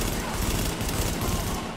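Rapid shotgun blasts from gameplay in Tom Clancy's The Division, dense and loud, fired in quick succession amid a chaotic firefight with a voice speaking over it.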